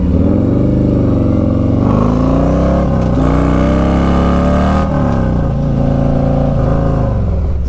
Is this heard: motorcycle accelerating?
yes